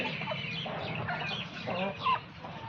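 Young Peru cross pullet hen, a heavy breed sold for laying, clucking steadily and close by, with a sharper squawk near the end over a busy farmyard background.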